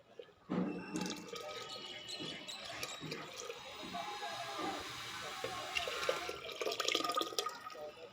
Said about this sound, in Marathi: यात शिजवलेल्या मटकीतून जे पाणी काढले होते ते घालून घेऊयात